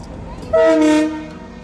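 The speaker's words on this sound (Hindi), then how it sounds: "चलिए संकेत तो हो गया है ट्रेन चलने का" Horn of the Somnath intercity express on the Ahmedabad–Somnath route, sounding to signal departure while the locomotive is refuelled: a single loud, sustained blast of about half a second, tonal and near, over a steady background rumble.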